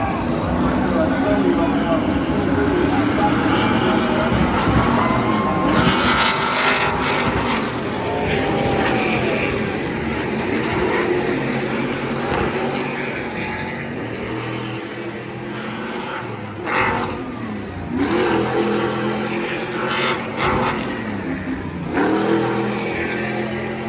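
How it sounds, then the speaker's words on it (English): Race vehicles at the Long Beach Grand Prix roar through turn 10 on a street circuit, with engines revving and surging in repeated waves, close and loud. A commentator talks over the noise throughout. "they're squealing their way through turn number 10"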